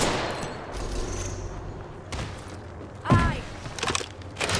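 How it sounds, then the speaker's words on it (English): Apex Legends gunfire pops in short bursts at moderate distance, a couple of sharper shots standing out, beneath a brief spoken word. "Heads up. Taking fire."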